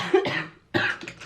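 A person coughs twice, close and fairly loud: a short harsh burst, a brief pause, then a second, longer cough, with no talk around it.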